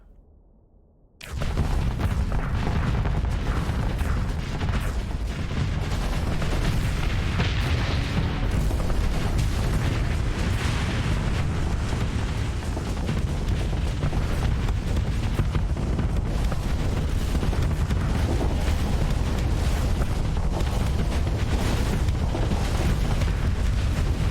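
Scrap shot cannon firing and exploding in Starsector, a dense, continuous roar of booming blasts that starts abruptly and stays loud and unbroken throughout.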